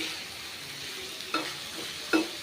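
Pirandai frying in sesame oil gives a steady close sizzle, with two brief scraping stirs standing out near the end.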